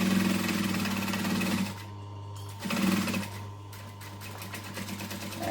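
A sewing machine stitches vinyl for a small zipper pouch, running in a steady loud mechanical whir with two brief slowdowns between bursts of stitching, close by with no talk.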